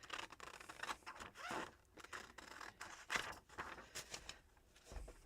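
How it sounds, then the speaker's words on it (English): Big scissors slice through paper signatures with a quick series of soft, close snips and rustles at an uneven rhythm, all faint. "this is just as fast with these big scissors"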